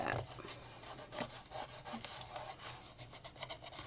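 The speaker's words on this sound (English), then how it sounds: "I'm going to take my bone folder and just rub it down" A bone folder rubbed firmly over a paper panel of a crafted fall treat bag, making a steady, close, dry scraping in repeated back-and-forth strokes, with no talk.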